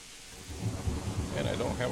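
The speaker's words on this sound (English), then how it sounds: "It's raining a little bit" Rain with rumbling thunder in the medieval video game Kingdom Come: Deliverance, a steady wash of rainfall with low booming rolls beneath it, ambience growing brighter toward the end.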